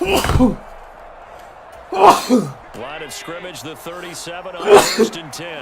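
A sudden sharp sneeze bursts out during a live football broadcast, followed later by a second similar burst, while a commentator keeps calling the play in the foreground.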